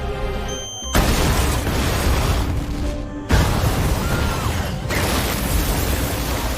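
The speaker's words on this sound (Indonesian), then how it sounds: "Ia pun meledakkan bom yang sudah dipasang di kafe untuk mengalihkan perhatian Mike dan juga Steve." A sudden loud boom from a bomb exploding in a cafe in a film erupts and is followed by a roaring rumble, then a second heavy blast, all dense and overwhelming.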